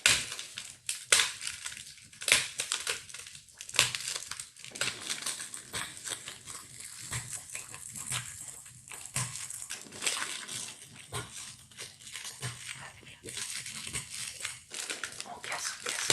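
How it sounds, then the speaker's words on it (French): Chocolate bar squares snapped apart inside their wrapper for a rose des sables recipe, a run of close, crisp crunching and crinkling breaks repeating irregularly in soft ASMR detail. "Pour faciliter le cassage des carrés, on garde l'emballage"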